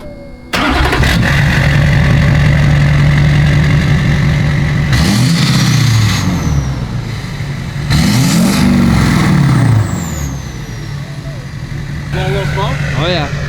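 A Hummer H2 with a swapped LBZ Duramax diesel cranks, catches and settles into a loud idle, then gets two sharp revs that rise and fall before idling again, close by.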